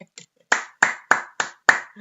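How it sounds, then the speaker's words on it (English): One person claps hands several times in a slow, uneven rhythm, a handful of sharp, close claps with brief gaps between them, mild applause from a single listener during a virtual Countdown word game. "you get a round of applause from me"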